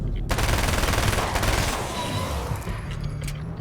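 Rapid, sustained automatic gunfire in Alan Wake's American Nightmare video game, loud and close, rattling without a break for several seconds with no voices.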